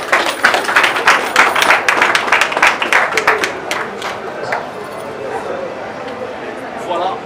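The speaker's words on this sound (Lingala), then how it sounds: "On peut applaudir." Applause from mourners at a funeral gathering in Kinshasa rises sharply with many hands clapping together, then dies down into scattered claps and murmuring voices in the second half.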